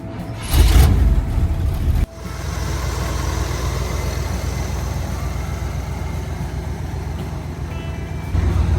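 An old truck's engine cranks and catches in a loud burst, then settles into a steady, rough idle close by. It picks up again briefly at the end, with no talking.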